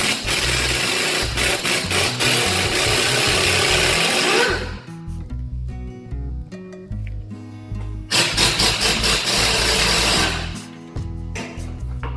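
A Jeep Grand Cherokee WJ engine is fired up with a dense, loud mechanical roar that drops to a quieter rumble with clicks midway, then surges loud again before settling.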